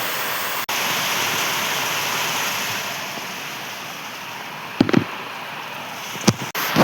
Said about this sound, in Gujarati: બાકી વરસાદ બહુ ફૂલ આવી રહ્યો